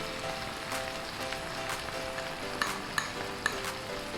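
Crushed garlic and ginger are stirred into mutton liver frying in a pan, a continuous close sizzle with a few light clicks of the spoon against the pan.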